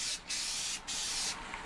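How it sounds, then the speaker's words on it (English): Three short hissing bursts of gloss coat from an aerosol spray nozzle, test-sprayed onto a neutral surface while building an AMT U.S.S. Enterprise model kit, each steady and close with brief gaps between. "give a little spray on something neutral so that you can test to see how the flow is coming out of the nozzle"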